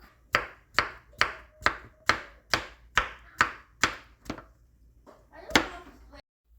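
A knife chops a banana on a cutting board in a series of about nine crisp, evenly spaced thunks, then a pause and two more cuts, close and clear with no talk.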